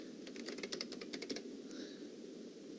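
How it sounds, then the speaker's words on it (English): Someone types a username on a computer keyboard, a quick burst of soft, faint key clicks over a steady background hiss, then a pause. "We can type in a username,"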